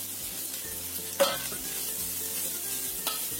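Close sizzle and stir-frying of carrots and chili in a pan for Javanese bihun goreng, a steady hiss broken by two sharp scraping spatula strokes.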